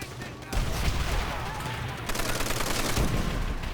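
A gun in Call of Duty: World at War fires in a steady, continuous stream of rapid shots, loud and close, with rumbling battle noise underneath.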